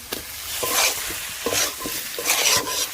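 Spices sautéed with a splash of water for a fish roe fritter curry, with steady close sizzling and repeated scraping stirs in the pan, rising and falling in bursts.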